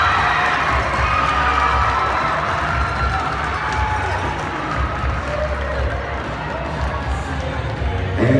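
Crowd at a state cheerleading competition cheering and shouting in a large arena, a continuous roar of many voices with children's shouts, heard from within the crowd; scattered talk mixes in.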